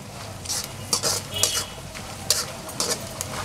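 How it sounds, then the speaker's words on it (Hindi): Peanuts and long-cut coconut pieces fry in a pan for poha chivda, with a steady sizzle broken by several sharp scrapes and clinks as a spoon stirs against the metal. "पीनट भी अच्छे से हमारे क्रैकल होने लगेंगे"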